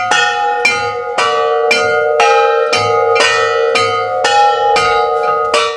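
A large church bell rings loud and clear, struck about ten times at an even pace, each toll ringing on into the next.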